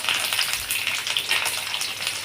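Shallots and garlic stir-fried in hot oil for a spicy traditional Tamil fish curry give a steady, close, loud sizzle that carries on unbroken with no voices.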